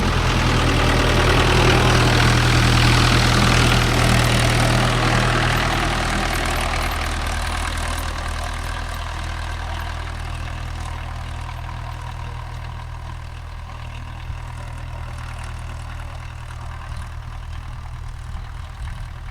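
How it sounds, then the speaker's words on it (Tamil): A Mahindra Arjun Novo 605 DI tractor pulling a rotavator through a field runs with a loud, steady diesel drone that eases slightly in level over time, with no talking. "வண்டி போகும் பாருங்க, எப்படி காடு மெதிப்படுது."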